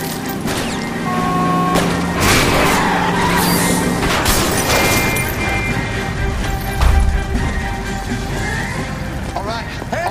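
A car skids after one of its tires is shot out, a long harsh screech and rumble with a heavy thud near the end, mixed with dramatic music and effects throughout.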